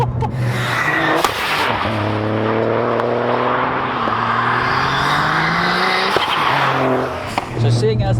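A 500bhp Toyota GR Yaris development car accelerates hard with a loud, rising engine note, pulling through the shift from second into third gear under steady cabin noise.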